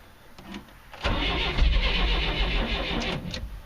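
A 1965 Datsun with a four-speed, left sitting since May, cranks briefly on a cold start before the engine catches and settles into a rough, loud idle up close.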